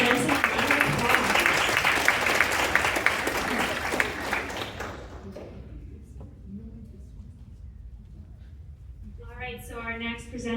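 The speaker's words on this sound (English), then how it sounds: "Let's give Jensen a round of applause." Audience applause for a presenter named Jensen at a pitch competition symposium, loud and dense for about five seconds, then fading into scattered claps and room murmur before a voice begins speaking near the end.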